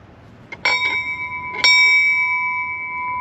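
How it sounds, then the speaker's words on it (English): Two clear bell strikes about a second apart at a Navy retirement ceremony, each ringing out with a long, steady sustain that lingers after the second. "Bell ringer, sound 2 bells."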